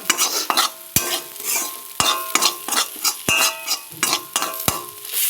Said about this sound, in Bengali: তো এটা একটু নাড়াচাড়া করব, একটু কাঁচা গন্ধটা যাবে